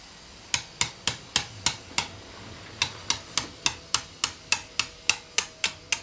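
A screwdriver tapping a circlip round during a front wheel bearing replacement on a 2014 Citroen C4: a series of crisp metallic taps with irregular spacing and a short pause midway, close up and clear.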